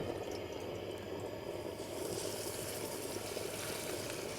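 Potatoes with a little water sizzle and crackle in hot oil in a carbon steel camp skillet, a steady close hiss that grows slightly louder midway, no talk over it.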